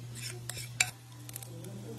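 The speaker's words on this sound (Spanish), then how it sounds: "Y ahorita ya lo vamos a revolver todo muy bien." A utensil clinks faintly against a bowl while stirring pumpkin and milk into batter for pumpkin-oat pancakes, a few light taps over a low steady hum in a quiet kitchen.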